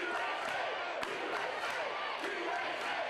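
A wrestling crowd at an NWA RockyTop event roars steadily in loud, dense cheering and yelling for young Bobby Golden, with a sharp thud near the middle of the sustained din.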